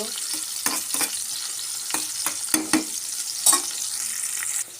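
Garlic and onion frying in a pan for a raw mango dish, a steady close sizzle with repeated scraping stir strokes, loud and continuous with no talking.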